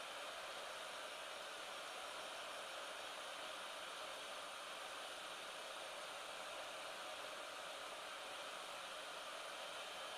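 A heat gun blows hot air to shrink tubing over four model locomotive wires, producing a faint, steady airy hiss that holds unchanged throughout with no talking.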